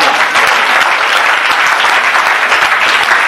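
A church congregation at a Christmas Eve vigil service applauds loudly and steadily, a dense sustained clapping that fills the space.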